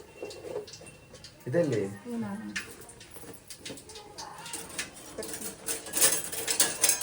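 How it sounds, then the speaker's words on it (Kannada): Mustard seeds splutter and pop in hot oil while tempering a homemade tomato chutney, a sparse crackle that grows busier toward the end beneath a close conversational voice. "ಒಂದು ಸ್ವಲ್ಪ ಸಾಸಿವೆ ಹಾಕಬೇಕು. ಚಿಟಪಟ ಅನ್ನುತ್ತೀವಿ ಇವಾಗ."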